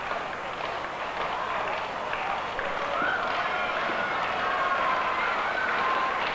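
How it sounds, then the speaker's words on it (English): A wrestling crowd at an NEWF show in Burlington cheers and roars in a broad, sustained wash of noise that swells slightly toward the end, heard from within the arena. "Crowd getting into it here in Burlington"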